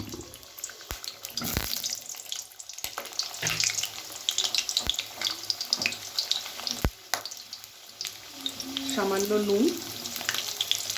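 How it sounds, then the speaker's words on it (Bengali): Potatoes for a chicken curry fry in oil with garlic, ginger and chillies. A crackling sizzle comes with sharp stirring clicks and scrapes, a few spoken words over it, and a brief rising whine near the end. "মাংসের আলুগুলো ভেজে নিই"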